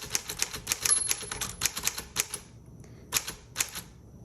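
Rapid, crisp keystrokes on a 1954 Smith Corona Tabulator typewriter, a burst of close clacks in uneven rhythm followed by a short pause and a few more isolated strikes.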